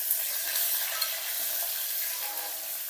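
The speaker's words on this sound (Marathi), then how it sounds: "आलं लसणची पेस्ट टाकायची, चांगलं परतून घ्यायचं." Onions, garlic and ginger-garlic paste sizzle and hiss steadily in a pan while sautéing for garlic mutton, a loud, continuous frying sound with no talk.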